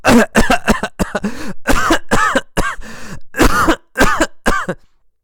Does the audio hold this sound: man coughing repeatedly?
yes